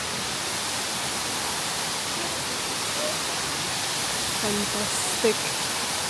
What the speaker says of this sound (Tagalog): Ang laki ng waterfalls.